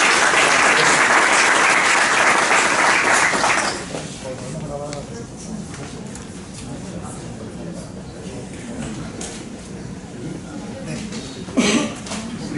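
Audience applause at a physics workshop lecture, a dense, loud burst of clapping for about four seconds that then drops to scattered lighter claps, with a voice speaking over the later part.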